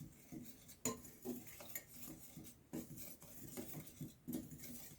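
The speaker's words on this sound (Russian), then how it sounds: "И теперь аккуратно венчиком перемешиваем." A whisk stirs sifted flour and baking powder in a bowl for a squirrel cake, making quiet, irregular clinks and soft scraping strokes against the bowl with no talking.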